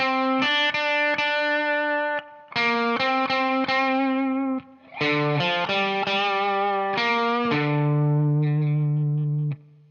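A distorted electric guitar plays a bluesy lead line in G of picked notes and bends, phrases separated by short pauses, with sustained vibrato on the final note.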